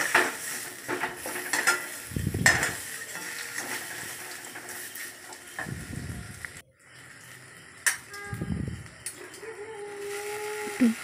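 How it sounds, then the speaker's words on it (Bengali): A spoon stirs spiced potato filling for kochuri in a pan, scraping the surface in three heavy bursts over a steady sizzle with scattered clinks of metal against the pan, and no voice. "এবার ভালো করে নাড়াচাড়া করে নিলাম"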